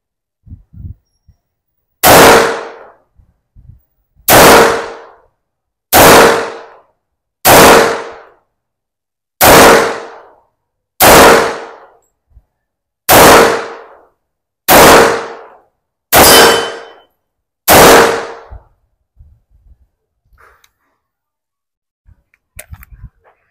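A Springfield Armory XD-45 pistol fires ten sharp, loud shots at 7 meters on a range. The shots come at a steady pace about every one to two seconds, each with a short decay, and faint handling clicks follow.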